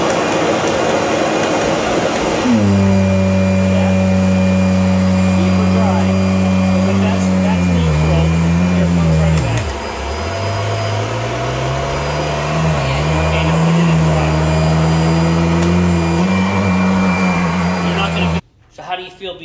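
A self-propelled Kirby vacuum cleaner running, its loud steady motor hum starting abruptly, then dropping briefly in pitch as the tone winds down before settling into a lower drone and cutting off near the end.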